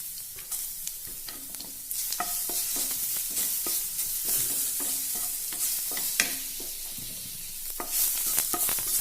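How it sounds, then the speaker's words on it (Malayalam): Crushed garlic goes into hot oil with already-spluttering mustard seeds and curry leaves for a pumpkin thoran. A loud, continuous close-up sizzle runs throughout, studded with frequent crackling pops and stirring scrapes. "നമുക്ക് ഈ വെളുത്തുള്ളി ചതച്ചതൊന്ന് ഇതിലേക്ക് ചേർത്തി കൊടുക്കാം"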